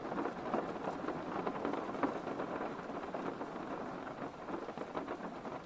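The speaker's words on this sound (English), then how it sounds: "You don't like the rain sounds?" Recorded rain with distant rumbling thunder, a steady hiss of drops on surfaces playing softly and continuously in the background of a game stream, no voices over it.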